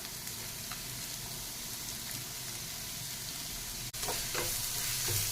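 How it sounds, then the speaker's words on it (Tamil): Onions and green chillies hit hot oil for sweet potato cutlets, setting off a steady close sizzle with stirring scrapes, followed by a brief sharp clink and a louder burst of frying. "இப்போ எண்ணெய் சூடாயிடுச்சு. இப்போ இதில் நம்ம வெங்காயம் பச்சை மிளகாய் சேர்த்திக்கலாம்."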